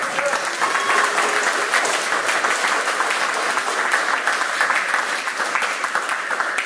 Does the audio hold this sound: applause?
yes